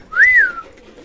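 A single pet pigeon gives one short rising-and-falling whistled call, close and clear, lasting under half a second against a quiet morning backdrop in winter.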